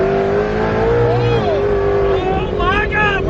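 An ESS supercharged G3R car accelerating hard in a pull, engine pitch climbing steeply through gears with a whining supercharger tone, loud and close, with excited voices talking over it.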